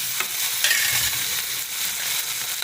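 Tomato, onion and garlic sauté in a pan with a loud, even hiss and sizzle, joined by occasional scraping stirs, and no one speaks.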